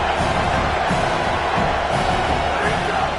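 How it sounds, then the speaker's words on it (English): A stadium crowd in an NCAA college football video game, Utah Utes on the field, roars in a steady, dense wash of cheering that holds at even loudness throughout, with no distinct voices standing out. "This crowd knows when to bring it."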